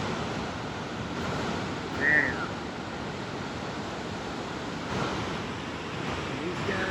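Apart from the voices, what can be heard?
roar of water at Niagara Falls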